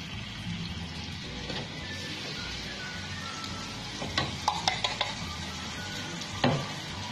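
Bhagar (barnyard millet) flour powder being stirred into boiling water in a pot for Chhattisgarhi fara, a steady bubbling hiss under scraping spoon strokes that grow into a few sharper clinks and knocks toward the end.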